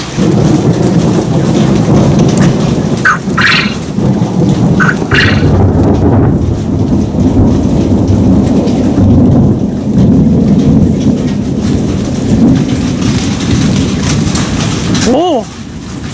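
Thunderstorm with loud, steady heavy rain pouring close by and thunder rumbling throughout, with a couple of brief sharper sounds near the middle and a voice briefly heard near the end.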